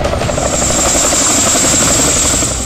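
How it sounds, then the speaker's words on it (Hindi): Chinook military helicopters fly overhead, their loud, continuous rotor drone and engine whine filling the whole stretch with a steady throbbing beat and a high turbine tone, without any voices. "आसमान में उड़ते इन चिनूक लड़ाकू हेलीकॉप्टर्स को देखिए"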